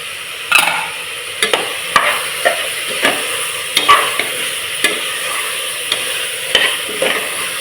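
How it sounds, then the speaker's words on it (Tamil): Ginger garlic paste frying and being stirred in a pan for mutton biryani, with tomato, onion and green chilli already cooking: a steady close sizzle broken by repeated sharp spoon scrapes at an irregular rhythm, no voices. "நல்லா ஒரு நிமிஷம் இது நல்லா வதங்கட்டும்."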